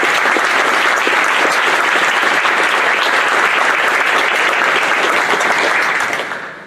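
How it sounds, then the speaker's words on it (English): Loud, dense audience applause at a National Junior Honor Society induction ceremony for junior high students, sustained evenly before tapering off at the end. "Let's give all of our 8th grade members a nice round of applause."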